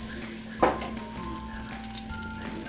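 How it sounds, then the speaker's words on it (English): Butter sizzling in leftover bacon grease in a soup pot, a steady close crackle and hiss with a small clink of a utensil early on, no talking. "And then we'll go ahead and add the butter."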